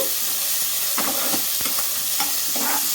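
Ginger and green chilies fry in a hot pan, giving a constant loud hiss of sizzling oil broken by several clattering stirs of a spoon.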